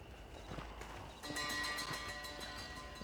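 Horse hooves clip-clop at a steady walking pace in a video game set in the old American West, close and clear with a denser, brighter burst of hoofbeats midway through.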